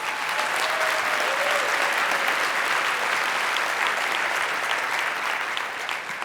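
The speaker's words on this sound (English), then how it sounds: "And I think we all owe Matt and Jason a huge round of applause for what they do." An audience at a business talk gives a big round of applause, thick and continuous for about six seconds before easing off slightly at the end.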